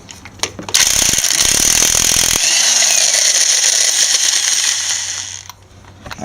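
An impact wrench hammers at the crankshaft pulley bolt of a 2.0 SOHC Ford Focus during a timing belt change. A loud, close rattling burst is followed by a sustained mechanical whir that fades out.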